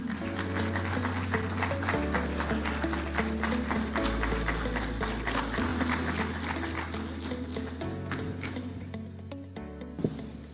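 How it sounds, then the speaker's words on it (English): Sustained, dense audience applause fills a large conference hall as President Ruto is welcomed at the Devolution Conference, steady and loud throughout with a held musical tone underneath. "Let's welcome His Excellency with a hand clap."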